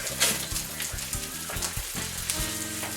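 Eggs fry in metal egg rings on a hot griddle, a steady close sizzle and crackle with scattered pops and faint scraping, alone without talk.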